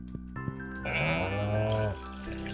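Sheep bleating in the farming game Stardew Valley: one drawn-out, wavering bleat, close and clear, preceded by a couple of soft clicks.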